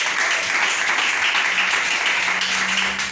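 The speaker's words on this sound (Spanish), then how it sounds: "¿Cuándo le damos un fuerte aplauso al Señor?" A church congregation breaks into strong applause for the Lord, a steady mass of clapping with a low voice or hum briefly audible beneath it near the end.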